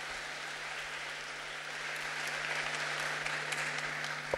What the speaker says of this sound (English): An applause to your priests and sisters who care for you